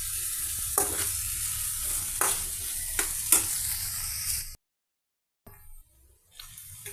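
Onion and green chili pieces frying in oil in a pan: a close, steady sizzle broken by a few sharp stirring scrapes, then a sudden break into silence before quieter sizzling returns, with no voices.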